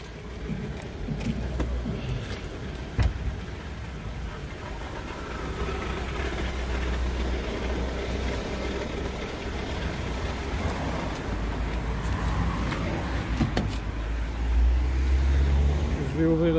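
Renault Clio 3 engine accelerating with an alternator problem, heard from inside the car: a steady low rumble that swells slightly toward the end, moderately loud and continuous, with faint intermittent talk underneath.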